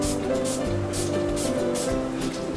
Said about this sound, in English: This is the Urban Decay All Nighter Makeup Setting Spray.